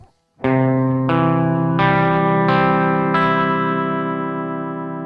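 Guitar strings plucked one at a time, five separate notes ringing out in steady succession, each struck clearly and left to sustain and overlap, loud and close with no talking.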